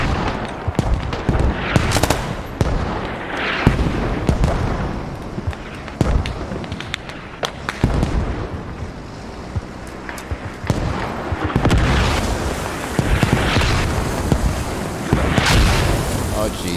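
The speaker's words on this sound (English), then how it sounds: "Now they're mortaring me." Mortar shells explode in the combat video game Squad, with heavy booms and bursts of gunfire landing at close range amid constant battle noise.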